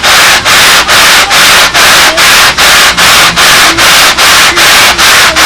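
Sandpaper rubbed back and forth over a plane's surface in steady, even strokes, loud and close, about two strokes per second with no pauses or voices.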